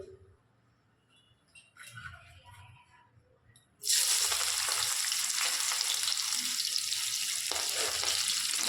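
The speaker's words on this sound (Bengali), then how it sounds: "এই তেলে এবার পেঁয়াজ কুচি দিয়ে দেবো।" Chopped onion dropped into hot mustard oil in a kadai for a Bengali fish curry bursts into a loud, continuous close sizzle after a few quiet seconds of handling sounds.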